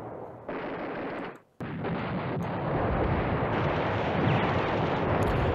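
Artillery fire in Command Ops 2, a dense continuous roar of distant shelling and gunfire that drops out briefly, then resumes steady and loud.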